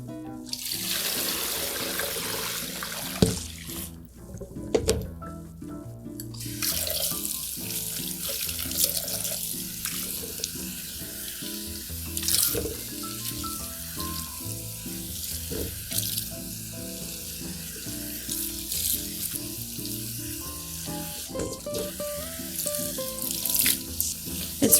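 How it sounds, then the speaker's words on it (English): Water runs steadily from a faucet while a wig with a silicone insert is rinsed and combed beneath it, the stream breaking and spattering unevenly as the hair moves through it. "as I'm rinsing under the faucet, I'm still combing the hair down"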